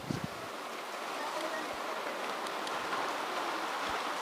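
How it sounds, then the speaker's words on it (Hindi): Rain falls outdoors on a farm as a soft, steady wash of drops, with a few faint thumps and rustles in the background. "ये देख लो, बारिश आ गई भाइयों, बारिश"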